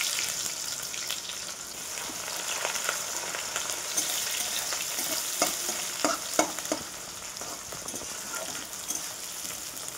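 Onions tossed into hot oil already seasoned with bay leaf, dried red chilli and cumin for a Bengali fish curry, a steady close sizzle with scraping stirs and scattered clinks, no talking.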